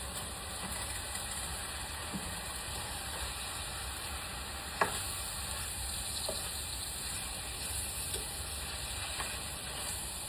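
Food for a tater tot casserole sizzling in a pan while being stirred, a steady soft frying hiss with occasional utensil scrapes and a sharp clink midway, no talking.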